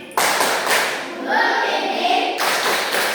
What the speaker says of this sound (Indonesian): Kita beri tepuk terima kasih dulu kepada kelompok 1.